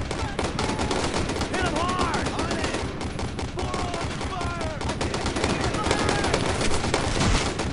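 Gunfire rattles nonstop in the World War II shooter Brothers in Arms: Road to Hill 30, a dense, loud barrage of overlapping rifle and machine-gun shots.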